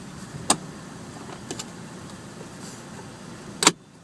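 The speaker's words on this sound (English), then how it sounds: "You close the top." Soft top of a 2011 Mazda MX-5 Miata being pulled shut and latched: a few sharp, quiet clicks spaced over several seconds, ending in a firmer latch clunk, with no voices.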